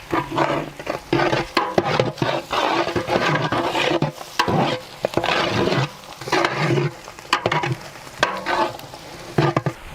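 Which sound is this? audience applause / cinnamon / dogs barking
cinnamon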